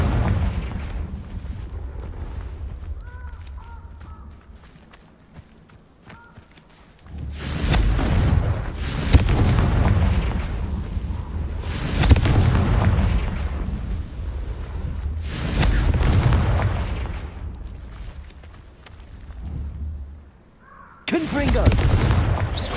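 Repeated Confringo blasting-spell explosions in Hogwarts Legacy: loud broadband booms in bursts across the clip, each swelling and decaying, separated by quieter stretches of game ambience, with a voice shouting spell names.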